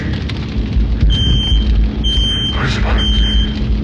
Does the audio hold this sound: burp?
no